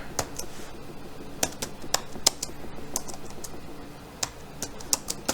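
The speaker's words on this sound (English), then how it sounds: "Type in Acme Corp." Fingers type on a computer keyboard, producing quick, irregular clusters of crisp key clicks close by, with no voice over them.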